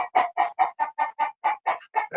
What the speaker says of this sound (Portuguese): Não tem nada a ver aquele galo ficar ali